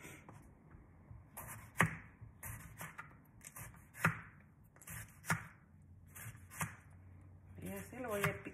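A knife chops vegetables finely and rhythmically on a cutting board for huevos rancheros, sharp taps spaced irregularly, with a voice speaking softly in Spanish in between.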